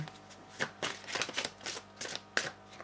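Tarot and oracle cards being shuffled and drawn, a run of soft, papery riffles and flicks in irregular bursts, close and fairly quiet, with no speech over them.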